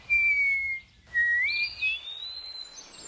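A tapir giving thin, high-pitched whistles: two or three sustained, slightly wavering tones separated by a short pause, clear and fairly close against a quiet background.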